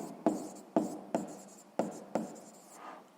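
Pen strokes write a fraction on paper in a quiet room: five crisp, separate scratching strokes at an uneven pace, each fading quickly, then a softer final stroke.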